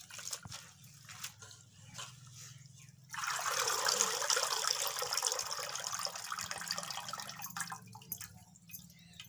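Bathua greens, freshly picked and gritty with soil, being washed in water: a faint trickle and drip at first, then a steadier splashing run of water that continues to the end, close and with no talking.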